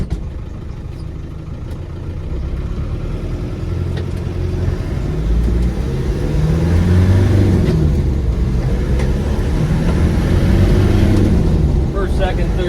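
A 1996 Land Rover Defender 90 with the 300Tdi diesel accelerates through first, second and third gears, its engine note building in loudness and pitch step by step from inside the cab, with a voice faintly present at times.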